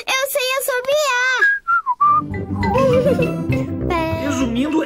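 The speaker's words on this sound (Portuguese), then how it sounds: "A Peppa aprendeu a assobiar." A clear, bright whistled melody from the Peppa Pig cartoon opens the piece, a few sliding whistle notes follow, and then a theme tune with a voice joins in, loud and close.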